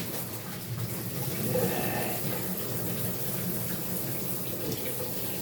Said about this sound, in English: I want to see if we have some nice hot water coming out of here.